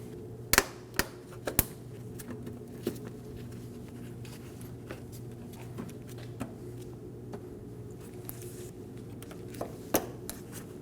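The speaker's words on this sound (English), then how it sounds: "Get all of your plastic clips installed." Sharp plastic snaps as clips are pushed into a Scion xB front bumper cover, a few close clicks clustered early, then sparser single snaps over a steady low hum, no talking.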